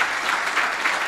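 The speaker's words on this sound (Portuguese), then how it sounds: "vamos aplaudir Jesus" Church congregation applauding during a Portuguese-language worship program, steady dense clapping filling the whole moment, fairly loud and close with no talk over it.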